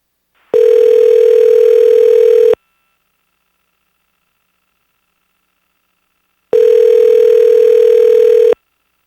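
A telephone tone on a public-testimony call-in line for the Anchorage Assembly sounds as two loud, steady, two-second pure tones separated by several seconds of silence.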